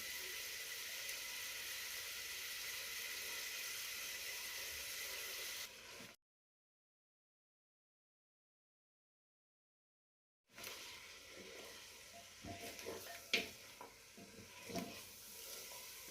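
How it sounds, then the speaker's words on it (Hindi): Chicken fries with garlic in a karahi for desi murgh karahi, giving a steady close sizzle, then a few seconds of complete silence, then more sizzling with stirring clatter against the pan. "जब तक ये हमारा भून रही है, चिकन हो रहा है फ्राई इसमें लहसुन में।"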